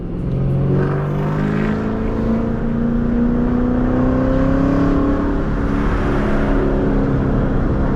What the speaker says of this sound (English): this car sounds marvelous